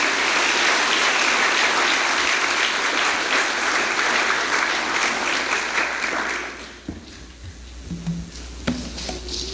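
A church congregation applauds. Dense, steady clapping fills the room for several seconds, then fades into scattered claps and low room noise.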